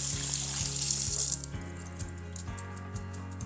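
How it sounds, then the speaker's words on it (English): Tap water runs steadily over asparagus spears being rinsed at a kitchen sink, a continuous close hiss with a low hum and faint rattling underneath. "It's really easy to rinse off asparagus. I like to do it under running water"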